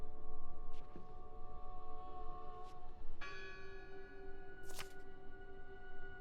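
Church-like bells from the video game Draugen ring out with long sustained resonant tones over a steady ambient bed, a few distinct strikes spaced across the stretch and no talking.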